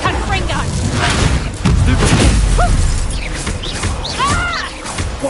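Loud booming blasts and crashes from a Confringo fire-spell explosion in the Hogwarts Legacy video game. Several heavy impacts mixed with clashing effects, and shouted voices run under the blasts.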